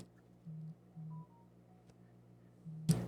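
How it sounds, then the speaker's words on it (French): A cell phone plays an Instagram notification as a few short, low electronic beeps in a quiet room, followed by a brief rustle or bump. "C'est mon cell qui se fait blaster une notification Insta."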